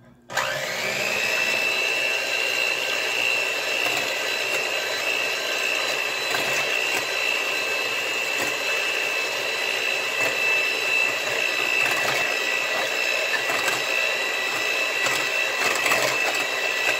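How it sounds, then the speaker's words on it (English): An electric blender mixes donut batter for Portuguese malassadas, starting abruptly and then holding a loud, steady, high whirring motor drone close by, with no talking. "I'm going to mix that with my blender here"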